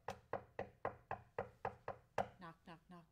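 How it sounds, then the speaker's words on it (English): Knocking on a door, about eight evenly spaced sharp raps in a steady rhythm, with a voice speaking just after. "knock, knock, knock on the door."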